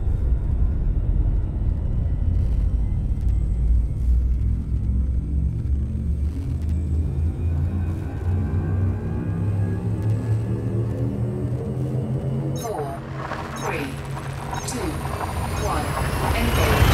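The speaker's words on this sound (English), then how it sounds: "Frameshift drive charging." In Elite: Dangerous, a spaceship's frameshift drive charges as a deep, steady engine rumble with rising layered tones. Near the end a sharp burst of bright, crackling energy swells in, and no one speaks.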